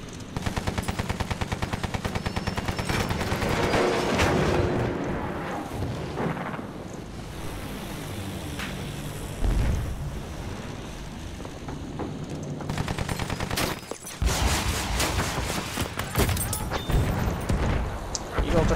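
Anti-aircraft guns firing aboard a zeppelin in the World War I shooter Battlefield 1, heard as dense, loud, sustained rapid bursts with booming impacts, continuing under a busy battle din with brief pauses.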